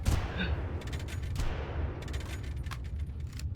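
Gunfire in the shooter game Far Cry, with quick bursts of sharp shots coming in clusters over a constant low rumble, close and moderately loud, and no talking in this stretch.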